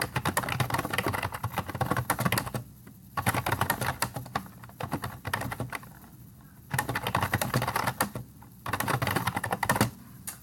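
Fast typing on a computer keyboard at close range, with dense bursts of key clicks broken by short pauses.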